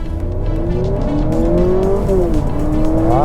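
A Honda Civic Hybrid e:HEV accelerating hard up a slight incline, its engine note climbing steadily in pitch and loudness, heard close from inside the cabin with no talking.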